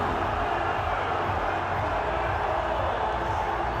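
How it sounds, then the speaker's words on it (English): A cricket crowd at a match involving Pakistan in Dallas roars steadily, a broad, continuous wash of cheering that holds at an even level throughout. "The crowd are going absolutely wild here."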